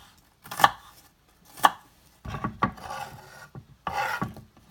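A knife chops an onion on a cutting board for homemade salsa, with several sharp, close, separate cuts followed by quicker scraping chops and no talking.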